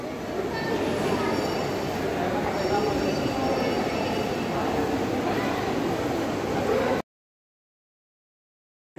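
A train pulls into a railway station platform with a continuous heavy rumble of wheels and carriages, faint metallic squeals, and people's voices mixed in, before the sound cuts to silence near the end.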